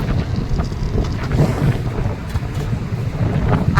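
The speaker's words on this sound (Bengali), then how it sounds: "ভীষণ সুন্দর হাওয়া ভীষণ" Strong wind blows across a beach at a river mouth, buffeting the microphone in a steady, loud, low rumble with gusty swells throughout and no voices.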